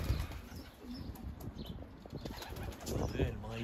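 Racing pigeons flap their wings in and around a loft, soft fluttering bursts over a steady outdoor background, with some faint cooing and distant sounds.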